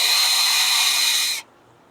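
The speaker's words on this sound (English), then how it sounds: "Just want to make sure I drill it straight." Power drill boring a hole during the rehab of an old home-built Dobsonian telescope: a loud, steady high-pitched whine that runs about a second and a half, then cuts off abruptly.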